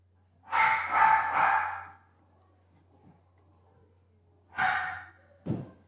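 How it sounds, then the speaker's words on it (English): A dog gives a few short, breathy woofs and huffs indoors, two quick bursts early and another pair a few seconds later, fairly close and with quiet gaps between. "my dog doesn't know how to control himself"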